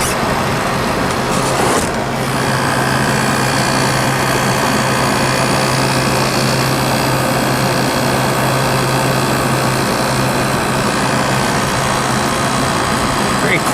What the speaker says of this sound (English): Quiet compressor.